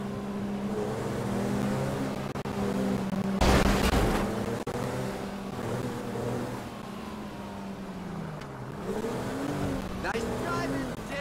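A car driven in Grand Theft Auto 5 hums steadily with engine drone and road noise, one loud whooshing burst midway, while voices talk over it.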